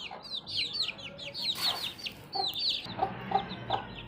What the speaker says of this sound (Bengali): এটা হচ্ছে আমার আরেকটা দেশি মুরগির বাচ্চা